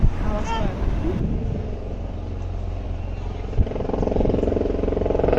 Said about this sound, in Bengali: ওই দেখো হেলিকপ্টার